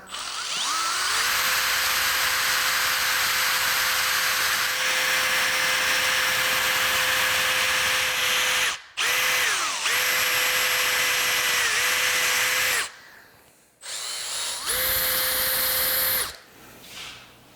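Power drill boring a hole through metal lubricated with cutting oil, a loud sustained high whine that runs steadily, dips and stalls briefly twice, then resumes in shorter bursts.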